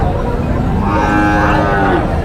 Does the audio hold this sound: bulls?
yes